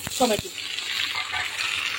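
Potatoes frying in hot oil, a soft continuous sizzle after a brief clatter of utensils at the start, close and moderately loud.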